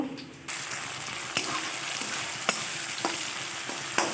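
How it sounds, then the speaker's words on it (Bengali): Crushed garlic hits a pan of onions fried until reddish and grated ginger for a chicken kosa, giving a steady close sizzle broken by several sharp clanks of stirring. "এবার এই যে থেতো করা রসুনটাকেও আমি দিয়ে দেব"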